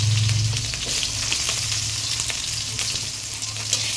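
Sliced onion and whole spices for a mutton curry sizzle steadily in a pan, with a loud, continuous frying hiss. The occasional scrape of a spatula stirring comes through, and a low hum sounds briefly near the start.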